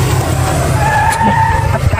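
A car brakes hard and its tires skid and squeal loudly at close range, a sustained screech with a low rumble of the engine beneath, lasting about two seconds.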